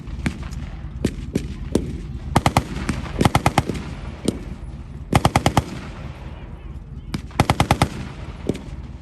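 A .30 caliber machine gun fires in short bursts during a USMC live demonstration outdoors, the sharp cracking volleys grouped in clusters of rapid shots over a low background rumble.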